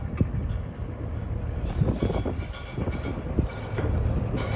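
A lift gate lowers at the back of a 2013 Freightliner M2 22-foot box truck with a Cummins diesel: a steady mechanical rumble and rattle with a few sharp clanks, close and fairly loud throughout, with no talking.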